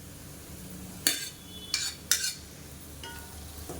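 A spoon scraping and clinking against a pan while cooked, drained basmati rice is stirred into masala, a few short separate scrapes, close and quiet, with no talk.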